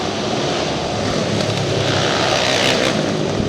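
Kage karts race around an indoor speedway during an open A-main, their engines blending into a steady, dense roar that swells slightly partway through and stays loud throughout.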